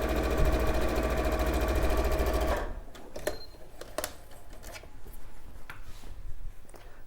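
Sewing machine stitching quilt fabric pieces together, a loud, fast, even mechanical whir close by for about two and a half seconds, then stopping, followed by quieter handling clicks and rustles.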